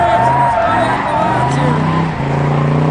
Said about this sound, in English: take the Le Mans out and burn the rest of the tires